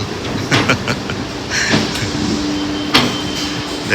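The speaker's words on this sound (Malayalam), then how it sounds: "ഈ കാണുന്ന മെട്രോയിലാണ് നമ്മൾ കയറാൻ പോകുന്നത്" A metro train rumbles past close by with rhythmic clacks and metallic squeals, a sliding-door hiss and a brief whine over steady rail noise.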